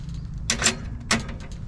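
A wood-burning camping stove has its metal air curtain vent slid open, giving two short scraping clicks close by against low background hum.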